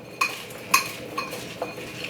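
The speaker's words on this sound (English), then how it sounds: "So we'll just toss our melted butter in with our cornflake crumbs here." A utensil stirs melted butter into cornflake crumbs in a bowl, making about four light, evenly spaced clinks and scrapes, close and fairly soft, with no voices.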